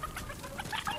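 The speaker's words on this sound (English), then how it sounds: "Where did the chicken go?" Chicken clucking inside the video game Fortnite, a run of short, close clucks and fowl calls over game background sound, with no talk.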